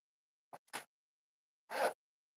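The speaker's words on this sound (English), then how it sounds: "Make sure your zippers are all pushed down, including your lining zipper." Zippers on a sewn crossbody bag being pushed down, two short close zipping strokes followed by a longer, louder zip after a brief pause, with quiet silence around them.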